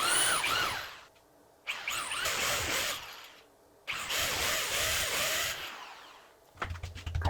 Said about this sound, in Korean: 위치를 표시해주고 타공을 해줍니다.